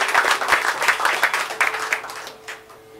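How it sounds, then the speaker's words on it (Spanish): A Sunday church congregation applauds, a moderate wash of clapping with a few distinct slaps that fades toward the end, some voices faintly underneath. "Le damos un aplauso al Señor por ellos."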